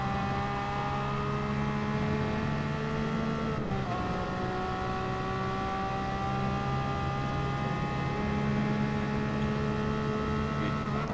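A race car in Gran Turismo on the Dragon Trail Gardens circuit holds full throttle, its engine a steady, loud high-revving drone with layered harmonics, a brief gear-change dip near four seconds, then climbing revs again; no talk.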